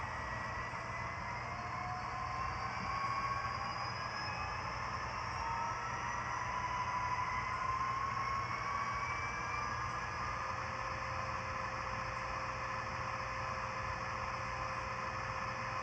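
The sound decoder of an Athearn Genesis SD70I model locomotive plays a steady diesel engine idle, a faint continuous hum with a constant low drone and no voices.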